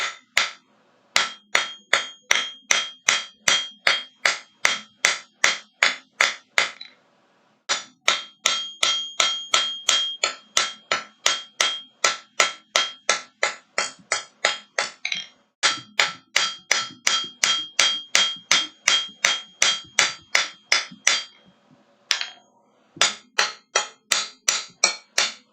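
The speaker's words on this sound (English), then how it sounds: "take it over to the treadle shed, or treadle hammer, and" A treadle hammer strikes a metal leaf in a blacksmith's workshop with rapid, steady, loud ringing blows, falling in four long bursts separated by brief pauses, with no voices.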